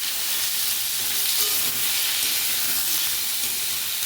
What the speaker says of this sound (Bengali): এবার এই পেঁয়াজ আর আলু ওই একই সাথে ভেজে নেব।